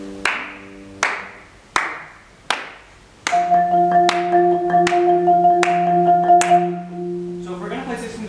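Four sharp hand claps from a teacher, evenly spaced about two-thirds of a second apart, come first, then sustained melodic notes from instruments begin and hold under the claps' count in a classroom music lesson.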